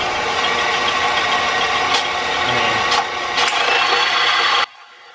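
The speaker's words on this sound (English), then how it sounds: "Guess I'll go sand the outside down a little bit." A continuous, loud abrasive rasp of sanding down the outside of a 1410 driveshaft yoke for a 14 bolt axle, with a few clicks along the way before it stops abruptly.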